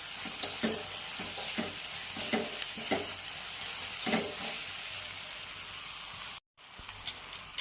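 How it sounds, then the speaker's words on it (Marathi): Whole green chillies fry in oil over a low flame for a spicy village-style chilli thecha, giving a steady, dense sizzle with rhythmic scraping stirs in the first half and one brief dropout near the end. "याला छान असं फ्राय करून घ्यायचं आहे"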